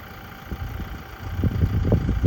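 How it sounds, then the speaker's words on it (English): A tractor engine chugs nearby in light rain in Thailand, a low, rough rumble with uneven pulses that grow louder toward the end. "tractor still working"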